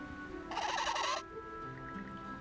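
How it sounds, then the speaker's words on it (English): A penguin in the video game Ys X: Nordics lets out a single loud, harsh squawk lasting under a second, followed by faint game ambience. "Why the hell is this bird so damn loud?"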